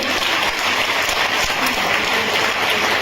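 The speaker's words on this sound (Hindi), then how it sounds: "एक बार जोरदार तालियां बजाओ अपने लिए" A room full of trainees at a cosmetics product training session claps for themselves, dense and loud applause filling the whole stretch without a break.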